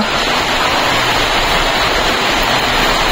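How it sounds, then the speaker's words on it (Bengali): Heavy rain pours in a steady, dense roar, loud and continuous throughout with no pauses. "এদিকে বৃষ্টিও হচ্ছে, খুব জোরে হচ্ছে বৃষ্টিটা"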